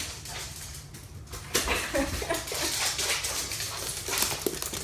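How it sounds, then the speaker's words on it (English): A dog whimpers and whines in short, high, plaintive bursts, fairly close, with some restless shuffling and faint noise around it. "Crazy dog, stop it."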